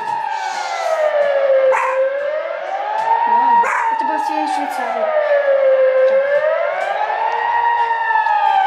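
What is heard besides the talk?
Swiss civil defense siren test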